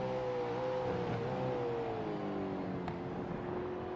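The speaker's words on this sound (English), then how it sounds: "you can see that engine just detonating" Race car engine in a sim racing game at Road Atlanta, droning steadily with a shifting harmonic whine as it runs through the gears in a failing state, close and continuous with no talk.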